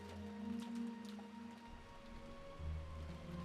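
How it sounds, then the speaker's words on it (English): Rain ambience from the Umineko visual novel: a steady, soft hiss of rainfall with faint droplet patter under a low hum, quiet and continuous, with no voices. "pass the time listening to the sound of rain"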